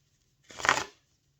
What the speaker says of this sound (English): I can't even shuffle properly.